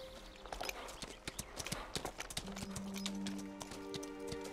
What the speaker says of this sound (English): Miss Blaine, should I take the horses back?